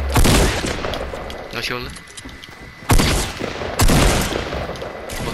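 Gunfire bursts in a shooter video game, with sharp rapid shots near the start and two loud blasts later, heard over excited player talk.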